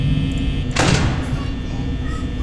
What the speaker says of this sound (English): Just close the door.